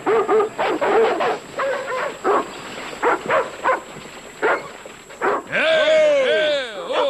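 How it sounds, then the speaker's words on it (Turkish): Sled dogs led by a Spitz bark and yip in a quick, loud series of excited calls, building to overlapping high whimpering yelps near the end, with a voice speaking over parts of it. "Başı çeken Spitz'in liderliğinde diğer köpeklerin azmi onu çok şaşırtmıştı"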